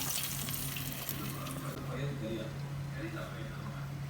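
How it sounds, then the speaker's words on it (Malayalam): Water poured into spices in a pot for prawn biryani, a soft, faint gush with light sizzling, followed by quieter bubbling while someone talks. "ഇതിനകത്തേക്ക് നമുക്ക് വെള്ളം ഒഴിച്ചു കൊടുക്കാം"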